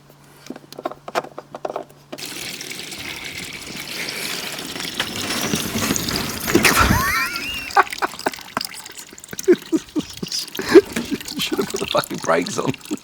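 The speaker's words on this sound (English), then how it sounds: "We're going to drain this out, get rid of all that water." Water drains out of a Yeti cooler used to hold pork, with a trickling, splashing flow and scattered drips following a quiet start, while a person speaks intermittently nearby.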